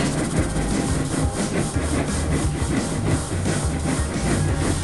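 The Thomas the Tank Engine train in a Thomas & Friends mobile game, running along the track with a steady loud engine rumble and a rhythmic clickety-clack of wheels, with no voices.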